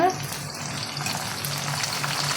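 Raw plantain slices frying in hot oil as salt-and-turmeric water is splashed in, producing a loud, steady, crackling sizzle that carries on without pause from start to end.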